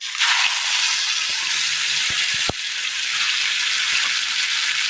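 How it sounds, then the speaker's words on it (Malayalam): Ground chutney paste hits hot oil with mustard seeds, setting off a loud, dense sizzle right away that holds steady to the end, with a couple of sharp knocks and pops near the middle. "അരച്ചു കൊണ്ടുവന്ന് ചമ്മന്തി കൂട്ടി ചേർത്ത് കൊടുക്കാം."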